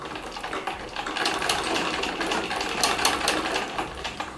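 A sewing machine runs a foot stitch, laid right alongside the previous line of stitching, with a steady, close mechanical rattle that continues alone for the whole stretch.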